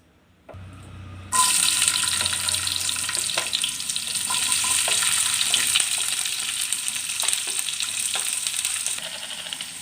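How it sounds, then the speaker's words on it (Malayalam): Chopped small onions and garlic drop into hot oil for a tomato chutney, bursting into a loud, steady sizzle that holds from start to finish with occasional stirring scrapes and no talking. "ചൂടായ എണ്ണയിലേക്ക് നമുക്ക് അരിഞ്ഞു വെച്ചിരിക്കുന്ന ചെറിയ ഉള്ളിയും വെളുത്തുള്ളി ഇട്ട് കൊടുക്കാം"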